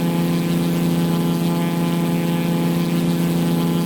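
A small propeller aircraft's engine drones loud and steady just after takeoff, a constant humming roar with a strong tonal buzz that never lets up.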